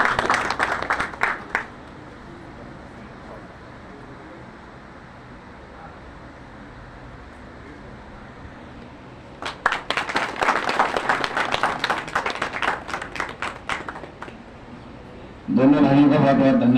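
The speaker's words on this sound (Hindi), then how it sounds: "जोरदार तालियां होनी चाहिए।" An outdoor crowd at an election campaign rally for a former chief minister in a Himachal village applauds in two bursts, first briefly and then for several seconds, with steady background hum and voices between.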